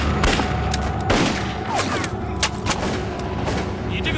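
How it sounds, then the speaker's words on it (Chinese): Bursts of gunfire in a war drama ambush, where guerrillas attack a Japanese army convoy, with rapid overlapping shots and loud cracking volleys close by, dense and continuous over a steady rumble. "看清老娘是谁在开枪！"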